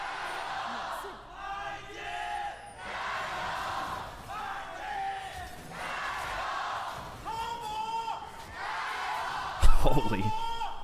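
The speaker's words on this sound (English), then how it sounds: "let's hear the crowd one last time" A large arena crowd at a League of Legends LPL esports match roars and cheers in rising swells, with a sharp burst near the end, while casters talk over it.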